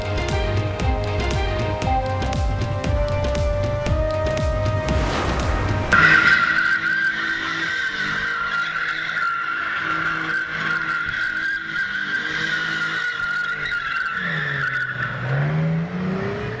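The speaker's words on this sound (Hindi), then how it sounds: "इस्लामाबाद में जिना एवेन्यू पर कार ड्रिफ्टिंग।" Car drifting on Jinnah Avenue, a street in Islamabad: after a burst of loud mixed noise, a long sustained tire squeal holds steady for about ten seconds, then bends and wavers before fading near the end.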